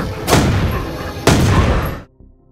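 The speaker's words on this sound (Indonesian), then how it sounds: "suara tembakan itu malah menarik perhatian banyak zombie" Two loud, sharp pistol shots about a second apart in a zombie movie scene, each with a short decaying tail, ending in near silence.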